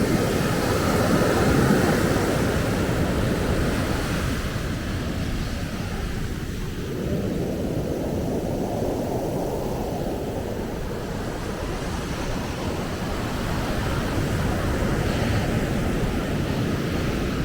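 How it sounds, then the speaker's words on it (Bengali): Sea waves wash onto the beach at Cox's Bazar in a broad, continuous roar of surf mixed with wind rumble, swelling and easing gently with no voices over it. "হ্যাঁ এটা ওই পানি নিয়ে আসছে এখানে এই পর্যন্ত সমুদ্র"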